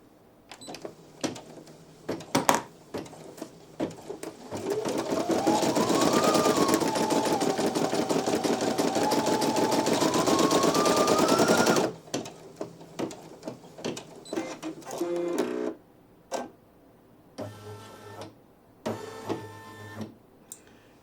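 A Brother PE-900 embroidery machine stitches steadily for about seven seconds, its needle beating a fast even rhythm with a rising and falling motor whine, bracketed by clicks, thread snips and handling noises before and after.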